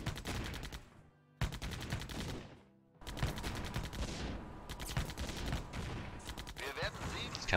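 Cannon fire and rattling gunfire from the Blitzkrieg Anthology war strategy game come as loud, dense volleys of shots and bangs, briefly dropping out twice before resuming in continuous bursts.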